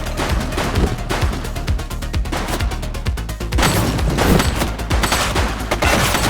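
Rapid, loud gunfire crackles in dense bursts during a police shootout in The Precinct, sharp repeated reports tumbling over one another close by, with heavier impacts mixed in.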